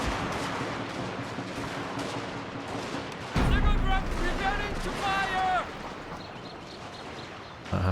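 Musket volleys from kneeling units in Total War: Shogun 2, a rattling spread of distant shots and crackling fire over battlefield noise, with someone talking over it.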